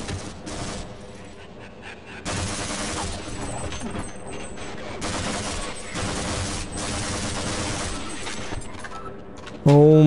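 Gunfire in the video game Half-Life comes in dense, loud bursts with short gaps between them, mixed with game sounds and a voice near the end.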